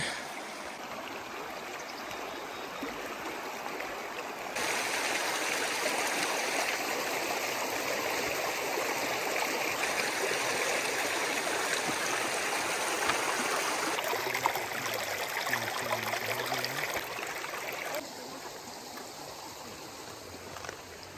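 Mountain stream in Utah during a salmon run, steady broadband rushing water throughout, louder and fuller in the middle stretch, with no talking.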